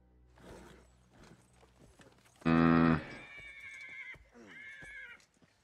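A horse in a Game of Thrones scene gives a loud, strained whinny in the middle, with hoof clops and other scene sounds around it. Low background sound fills the rest.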